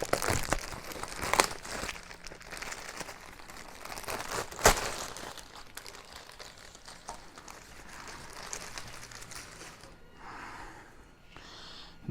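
Close crinkling and rustling of packaging as a Yamaha Grizzly 700 ATV part is unwrapped, with scattered crunches and tearing and a few louder crackles, fading to softer handling at the end.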